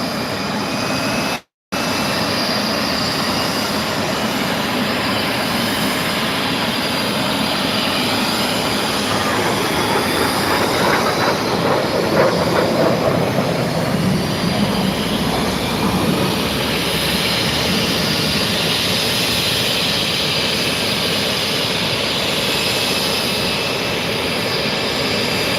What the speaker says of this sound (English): Plenty of jet noise for you.